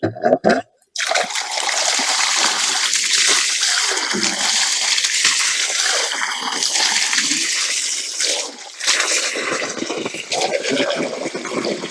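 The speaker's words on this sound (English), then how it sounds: "So the first thing I'm going to do is triple rinse this, and then we'll just fill it with water." Well water gushes and splashes into a container that is rinsed and filled, loud and close, with the flow starting, stopping briefly and running on in a steady rushing stream.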